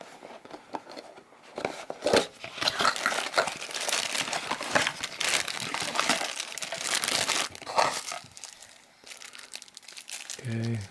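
Packaging for a Redtiger FN7 dash cam crinkles and rustles as the box is unpacked, with paper and plastic handled continuously, and an owner's manual and envelope come out. Steady close crumpling noises fill the clip, with no talk heard.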